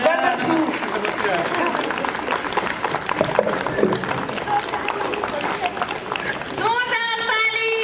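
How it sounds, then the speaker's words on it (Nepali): An audience applauds at a Mru Tamu national assembly welcome in Gorkha, producing sustained crowd clapping mixed with voices and followed by a tonal sound near the end. "जोरदार ताली, ताली किन खाली?"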